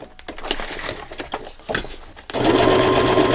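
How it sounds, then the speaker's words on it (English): A sewing machine runs a zigzag stitch with thread, starting as a rapid, uneven patter of needle strokes, then settling into a loud, steady motor whir close by, with no voices. "so once again, zigzagging with thread this time."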